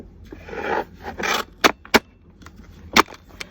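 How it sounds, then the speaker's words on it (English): Two bursts of rough scraping give way to three sharp, close snaps from a paper cutter's blade chopping down, with quiet pauses between. "I'll bring in my little guillotine cutter here"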